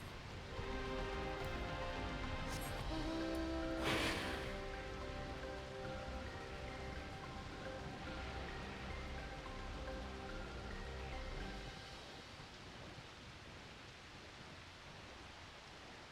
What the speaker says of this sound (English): The rain in this area is certainly very interesting.